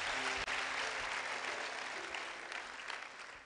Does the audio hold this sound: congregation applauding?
yes